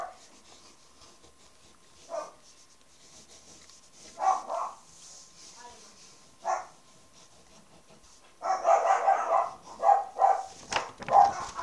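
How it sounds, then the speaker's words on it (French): Dogs bark intermittently, scattered single barks at first, then a denser run of repeated barking toward the end, moderately close. "Excusez-moi pour les aboiements, c'est mes chiens."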